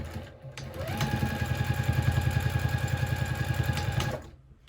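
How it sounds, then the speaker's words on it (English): A sewing machine runs down both sides of a small fabric triangle pouch made from scraps, giving a steady, fast, close-up stitching rattle for about three seconds that starts and stops cleanly. "I'm just gonna go ahead and sew down either side of that."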